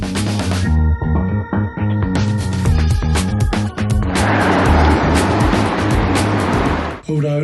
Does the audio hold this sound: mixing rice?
no